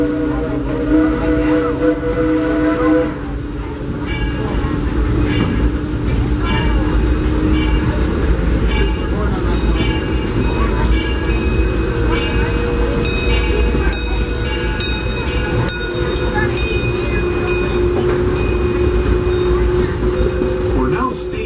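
Disneyland Railroad steam train rolling along at a steady pace, a continuous rumble of wheels and rail noise with hissing steam and faint whistle tones, heard from aboard the moving train for the whole stretch.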